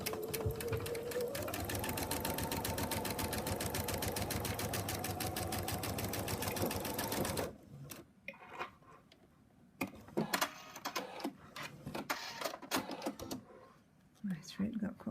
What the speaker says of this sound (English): So we're going to go to the sewing machine now and stitch it out like that.